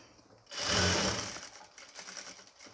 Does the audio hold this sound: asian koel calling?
no